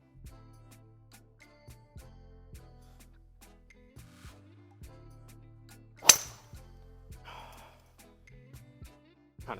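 A golf driver striking the ball on a course, one sharp crack standing out above quiet background and low hum, followed by a short fading hiss.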